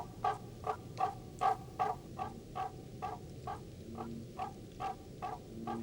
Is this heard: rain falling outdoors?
no